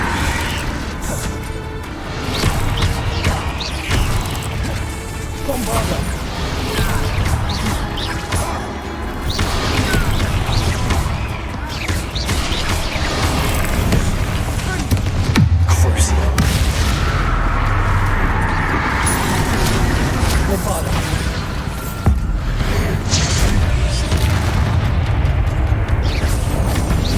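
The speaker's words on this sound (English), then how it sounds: "Bombardo." Bombardo explosion spell cast in the video game Hogwarts Legacy: heavy booming blasts and crashes, loud and continuous, layered within dense game action for the whole stretch.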